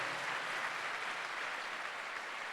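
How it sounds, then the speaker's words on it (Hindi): A church congregation at a worship gathering claps loudly and continuously, a dense wash of applause that fills the room. "एक जोरदार ताली बजा के केवल परमेश्वर को महिमा करें।"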